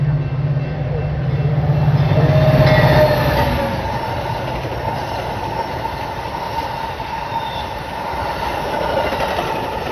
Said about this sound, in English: Southbound train approaching your station will not stop.